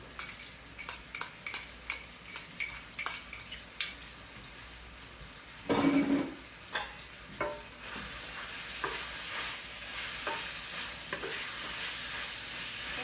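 Garlic hitting hot oil in a pan for a pasta dish, a burst of sizzling midway preceded by rhythmic utensil taps and clinks, then a lingering crackle with continued scraping, close and without speech.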